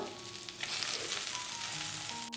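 Large chopped tomatoes sauté in a pan for a spicy onion-tomato chammanthi, a steady close crackling sizzle with soft stirring scrapes and no talking.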